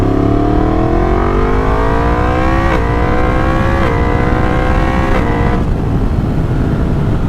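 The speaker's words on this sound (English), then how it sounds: "Oh, the quick shifter on this bike, it almost feels like it's gotten better." Motorcycle engine revving hard and climbing through gears with a quick shifter, each upshift cutting in abruptly with a brief dip before the pitch rises again; loud, close, steady, with no talking.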